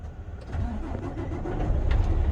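A truck engine cranks and catches during an in-cab CDL pre-trip inspection, a low rumbling start that rises into a steady, loud idle running on its own.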